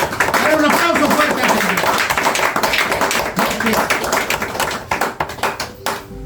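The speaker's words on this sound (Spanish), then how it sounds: "Dale un aplauso fuerte al Señor." A church congregation claps loudly and continuously at a resurrection service, dense rhythmic applause with cheering voices mixed in, thinning out into scattered claps near the end.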